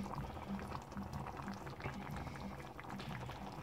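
Sauce simmering on a stovetop, bubbling steadily with a dense, continuous low burble of popping bubbles, close and moderately loud with no voices.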